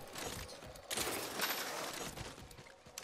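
Rapid bursts of automatic gunfire erupt during an Apex Legends match on PS4, a dense, fairly distant crackle of shots that swells midway and continues without a break.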